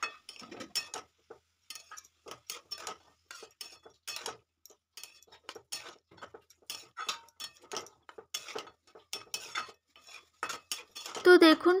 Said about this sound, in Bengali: এখানে দেখো একটুখানি এবার নাড়াচাড়া করে নেব